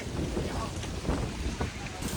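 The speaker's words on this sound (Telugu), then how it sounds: "ఫుల్ గాలి కొడుతుంది హరికేన్" Strong hurricane wind roars continuously against the microphone, a loud broadband rush with gusty buffeting throughout.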